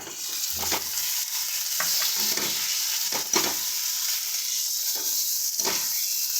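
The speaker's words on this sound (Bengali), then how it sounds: "টমেটোটাকে হালকা নরম হওয়া অবধি মশলাটাকে আমরা আরেকটু কষিয়ে নিচ্ছি" Spice masala with chopped tomato fries and sizzles in a pan for a Bengali bori jhal, with a steady hiss broken by repeated scraping stirs of a spoon, close and clear with no voices.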